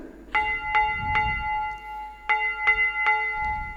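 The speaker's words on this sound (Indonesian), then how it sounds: "ternyata lonceng Natal sudah bergema dan memanggil kita untuk bersuka cita" Bright Christmas bells ring in two groups of three clear strikes, each tone ringing out with sustained overtones, with a short pause between the groups.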